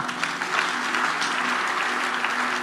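Church congregation applauding, a steady dense patter of clapping sustained evenly and fairly near throughout, with no voices over it.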